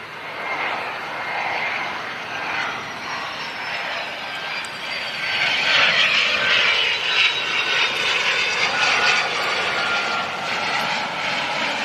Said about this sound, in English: So that's Cessna Citation XLS.